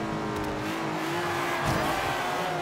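Game car engine from Forza Horizon 2, a classic racer, droning steadily with a rising rev and faint tire noise, fairly loud and continuous with no talking.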